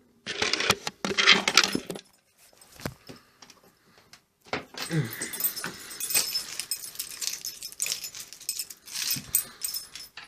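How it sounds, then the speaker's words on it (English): Keys jangle and clink near a fruit machine, starting with a loud metallic rattle, then quieter handling noises and another longer stretch of jangling and shuffling, close by with no talking. "Just leave my keys back there so I know where they are."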